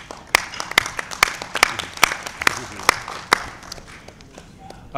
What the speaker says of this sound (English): A round of applause for the speaker.